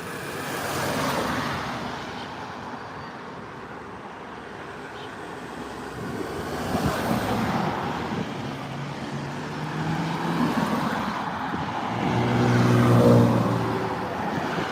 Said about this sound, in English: Bloody traffic.